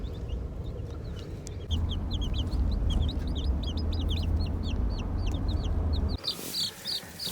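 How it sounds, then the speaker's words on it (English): A crowd of baby chicks clucks and chirps steadily close by in a box in the back of a vehicle, many small calls overlapping over a low rumbling background. "We got chickens in the back in a box."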